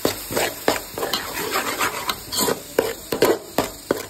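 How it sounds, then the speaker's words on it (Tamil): Ground masala paste with onion, ginger and garlic being sautéed in a pan for mutton thalakari: loud, close scraping strokes of a spoon against the pan come in an uneven rhythm over a soft sizzle, with no talking. "அந்த அரைச்சி வச்ச மசாலா நல்லா வதக்கணும்"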